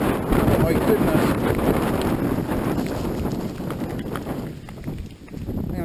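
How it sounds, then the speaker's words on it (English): Strong wind buffets the microphone on an exposed hillside during a bike ride, a loud, continuous roar with gusty swells that eases slightly near the end. "Oh, the wind is blowing horrendously by here."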